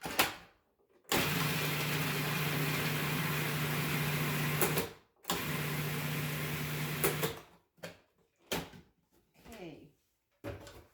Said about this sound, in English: I will wait until I process the rest of the ingredients in the processor